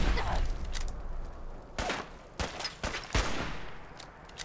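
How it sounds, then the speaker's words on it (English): Gunfire in the Fallout 4 video game: bursts of shots crack out in clusters, some close and loud, others fainter, with a rapid volley early and a few separate blasts later, while someone talks quietly over it. "Jesus, what is shooting at me?"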